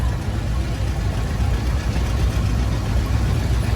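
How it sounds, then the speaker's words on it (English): A 1964 International Model 70 garden tractor engine at an antique farm machinery parade at a county fair, a steady low rumbling chug with no talk. "here's Mr. Logan Brandt on his International Model 70 garden tractor. Built in 1964."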